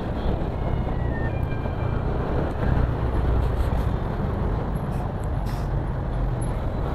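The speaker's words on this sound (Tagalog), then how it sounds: "Traffic is real." Steady road traffic noise fills the scene in Mindanao, a dense low rumble of cars, buses and trucks with an air brake hiss, continuous and fairly loud with no talk.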